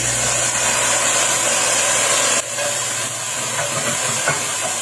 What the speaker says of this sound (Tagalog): Iginis ako dito, una ay ang luya at nang umamoy na, sinunod ko naman dito ang bawang at sibuyas